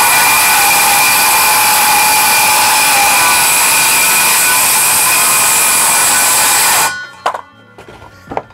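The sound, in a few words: power saw cutting a pallet board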